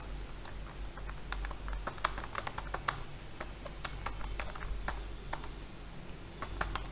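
Steady, crisp clicking of a computer keyboard as text is typed into a Word document. The quick, uneven keystrokes run alone and close against a low background hum.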